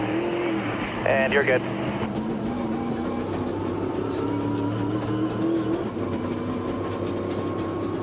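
NASCAR Cup cars circling Dover under caution at the end of stage one, a steady engine drone with one car passing closer, heard under radio chatter and commentary.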